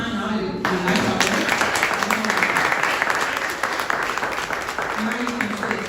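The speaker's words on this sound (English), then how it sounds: "We can clap for her one last time now." An audience at a Rotary club gathering applauds for the club president, a sustained wash of clapping, fairly loud and steady, with a voice speaking briefly over it.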